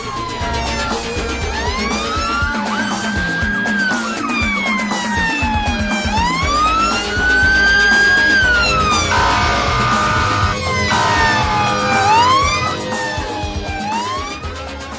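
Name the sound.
police car siren passing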